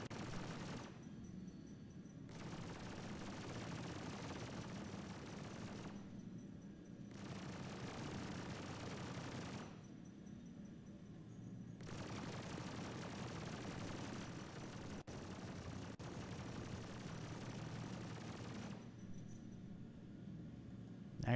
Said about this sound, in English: I gotta stop shooting him just in case I damage that cargo elevator